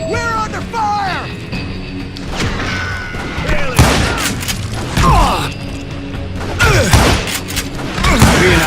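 Gunfire and impacts from the Western shooter Call of Juarez Gunslinger, scattered loud shots and thuds mixed with ricochet-like whines, under a voice talking through much of it.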